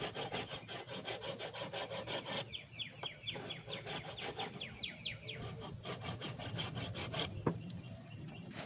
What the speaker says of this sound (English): now I'll begin filing all the way around while rotating the cane